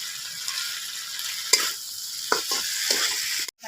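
Potatoes and spices being stirred and fried with a little salt in a pan, a steady close sizzle broken by several sharp scraping stirs of a spoon against the pan.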